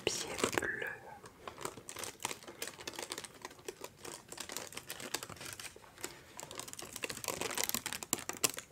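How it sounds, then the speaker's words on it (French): Delicate blue tissue paper being lifted and rustled, soft close crinkling and papery crackles in quick irregular bursts, with faint whispery handling noise throughout. "On va soulever ce délicat papier bleu."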